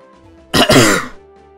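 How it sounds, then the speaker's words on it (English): A single loud, close throat-clearing cough from a person, a harsh burst of about half a second that trails off, set against near silence. "Sorry if I coughed."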